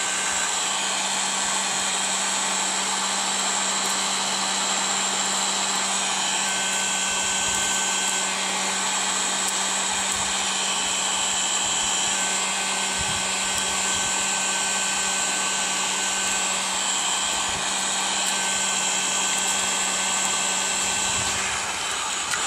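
A handheld hot-air plastic welder blows a steady, loud hiss with a constant whine while welding HDPE pipe, running without a break throughout.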